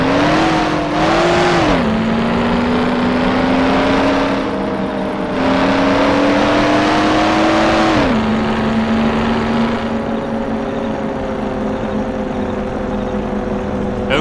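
A race car engine in the video game Mafia revs loudly and steadily for the whole stretch, its pitch climbing and dropping through several surges before settling into a sustained drone.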